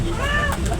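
A single short cat meow, fairly faint and close, heard over low background noise.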